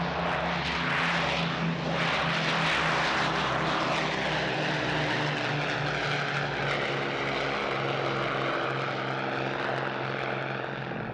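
Avro Lancaster bomber's four piston propeller engines droning loudly in flight, a thick, continuous throbbing roar with beating harmonics, steady and close for the whole stretch, with no voices.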